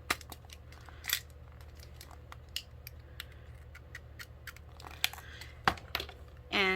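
Scissors snip open a design team craft package, a scattering of short sharp cuts and crinkly rustles over a faint steady hum, with a louder tearing rustle at the end.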